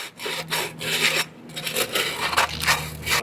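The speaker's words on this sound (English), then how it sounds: "You can now do that same sanding operation to tube segment 2." Close, steady back-and-forth rasping of sandpaper rubbing the edge of a valve tube segment, repeated strokes with brief pauses, no talking.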